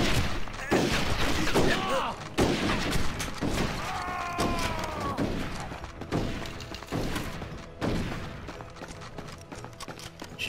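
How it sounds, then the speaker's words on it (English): Gunfire in the Western video game Red Dead Revolver, several loud sharp shots and impacts scattered through a busy game soundtrack, with occasional hoof clatter and voices from the game. "She shot Jay in the face."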